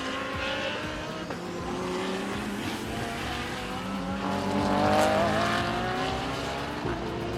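GT class race cars, among them a McLaren, lap Sepang International Circuit in Malaysia, their engines rising and falling in pitch as they pass, loud and continuous, with a couple of brief tire squeals.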